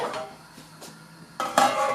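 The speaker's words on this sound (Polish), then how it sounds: "Przykryję delikatnie pokrywką, tutaj dam patelnię" A metal lid is set down on a soup pot of Polish żurek and a frying pan is placed on a gas stove, giving a soft clink followed by a louder, closer metallic clatter.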